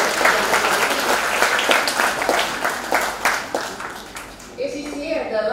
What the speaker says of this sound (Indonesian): Boleh tepuk tangan untuk bapak ibu dosen.